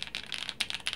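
Rapid typing on a gaming keyboard with an aluminum top plate and plastic bottom case, a dense run of close, crisp key clicks in quick bursts with no voices.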